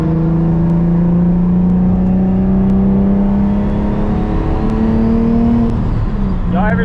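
A turbocharged Nissan 350Z making about 800 wheel horsepower drones loudly from inside the cabin while driving, its engine note rising slowly and steadily before easing off near the end, with a faint voice under the drone.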